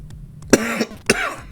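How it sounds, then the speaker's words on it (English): A person coughs at close range: a couple of sharp, harsh coughs with a throat-clearing rasp between them, in an otherwise quiet room. "my cough is annoying"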